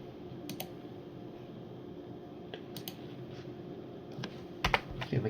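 Scattered keystrokes tap on a computer keyboard, a few sharp clicks spread over several seconds, against a steady background hiss.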